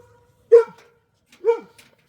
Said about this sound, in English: the dog is still going crazy for the baby goat